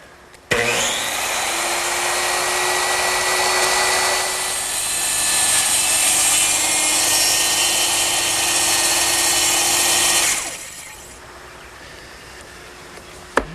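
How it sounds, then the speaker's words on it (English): A circular saw makes a plunge cut in wood along a clamped straight edge while building a Shaker blanket chest, a loud, steady whine that holds for about ten seconds and then spins down to quiet. "I'm going to make a plunge cut, which means I'm going to lower the blade through the work and carefully go along the line"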